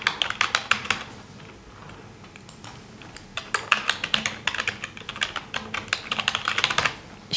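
Typing on a computer keyboard, entering a heading for a map in WebGIS software: bursts of quick, close key clicks with short pauses between runs, steady throughout.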